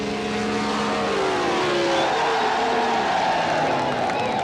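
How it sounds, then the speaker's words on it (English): A B dragster with a Ford six-cylinder engine launches down the strip at a 1977 NHRA drag race, its engine howling loud and rising in pitch as it pulls away, with crowd noise faintly beneath. "Clapp's car, a B dragster utilizing a Ford engine."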